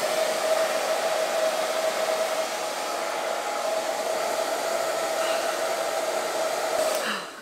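A hair dryer fitted with a Curlsmith diffuser blows steadily on medium heat, a close continuous whooshing whine that cuts off abruptly near the end.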